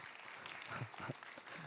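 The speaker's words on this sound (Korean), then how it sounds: "박수 안 쳐주세요?" Applause from a lecture-hall audience at a public-sector job preparation class in Korea, a brief even patter of many hands with a few louder claps, heard alone without speech.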